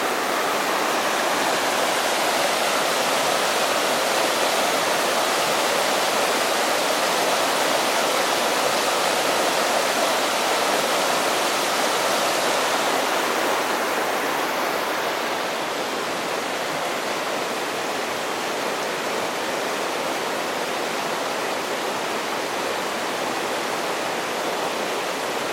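Bub's Creek rushing at high flow beneath a wooden hiking footbridge, a loud, dense, unbroken roar of whitewater close by that holds steady and fills the whole stretch with no voices.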